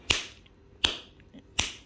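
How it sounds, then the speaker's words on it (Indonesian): Three hard palm slaps against the leg, left hand striking the right leg in a self-massage exercise, spaced evenly about three-quarters of a second apart, sharp and close with no talking. "tangan kiri tepuk kaki kanan"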